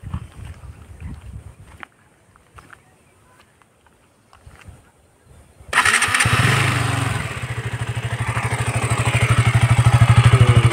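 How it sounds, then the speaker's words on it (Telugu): A KTM Duke 200 motorcycle after four years of ownership cranks and fires up, then idles loudly with a rapid, steady exhaust thump that builds slightly toward the end; a few faint knocks and clicks come before the start. "ఇది కరెంట్ ఎగ్జాస్ట్, ఇది ఆఫ్టర్ 4 ఇయర్స్."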